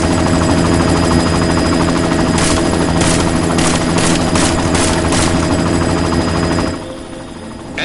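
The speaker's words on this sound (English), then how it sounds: "You've got to stop that chopper." Helicopter in the video game Deus Ex: a loud, steady rotor and engine drone. Rapid bursts of gunfire cut through it in the middle, and it drops off sharply near the end.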